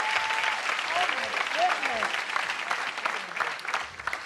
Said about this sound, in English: Can we have a big, big, big, big round of applause?